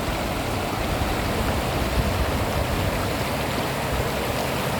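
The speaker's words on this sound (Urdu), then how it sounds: "ہر طرف پانی ہی پانی ہے، شور ہی شور ہے۔" Rushing floodwater after heavy rains roars in a steady, dense wash of noise, loud and unbroken throughout with no voices.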